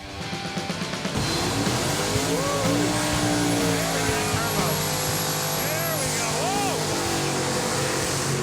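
A race car engine revs hard and loud, its pitch sweeping up and down through several throttle blips over a steady roar, with people talking and exclaiming over it.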